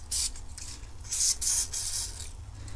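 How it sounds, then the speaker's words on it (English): Short hissing bursts of conformal coating sprayed from an aerosol can onto a Range Rover DSP circuit board, two or three close bursts with a longer one in the middle, quiet between. "one more spray of conformal"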